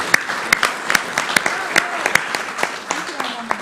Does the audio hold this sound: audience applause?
yes